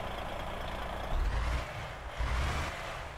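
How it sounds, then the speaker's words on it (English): Heavy truck engine in Euro Truck Simulator 2, a continuous low diesel rumble with two short surges of deeper throttle roar, close and steady, no talking. "Engine sound."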